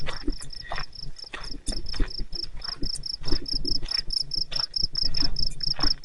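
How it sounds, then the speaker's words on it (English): A cricket chirps steadily and loudly in a cemetery in Keene, New Hampshire, its high pulsing trill running continuously over soft outdoor ambience and faint wind. "Darn cricket."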